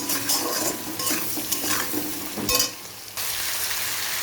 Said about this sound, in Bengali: নুন হলুদ সব দিয়ে দিয়েছি, ভালো করে একটু কষিয়ে নেবো।